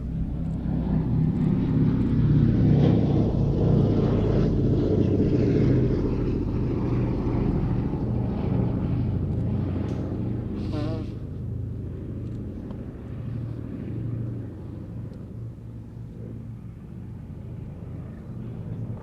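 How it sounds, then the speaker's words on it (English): A B-17 bomber, Sally B, flies a solo display at the Duxford Battle of Britain air show: a loud, deep multi-engine piston drone passes close, then slowly fades and recedes. "B-17 Sally B."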